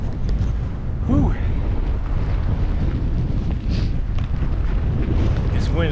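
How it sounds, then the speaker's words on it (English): Strong wind gusting steadily on the Appalachian Trail in Pennsylvania, a continuous loud roar buffeting the microphone for the whole stretch, with a brief voice-like sound in the middle. "This wind is supposed to continue all night."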